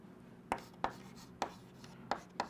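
A physics equation written by hand, five distinct marker or pen strokes tapping and scratching at an uneven pace, close and fairly quiet with no voices.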